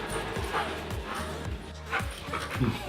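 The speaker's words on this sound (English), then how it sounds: "He barks to let me know that he's ready to go outside after he's done eating." A pet dog barks several times in short bursts close by, with whimpers and yips between the barks and some faint household movement, as it asks to go outside after eating.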